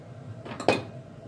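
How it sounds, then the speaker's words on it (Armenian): A brief clink of a utensil against a cooking pot as salted water for buckwheat pilaf is stirred, a single short metallic knock over faint background hiss. "կխառնեմ ջուրը"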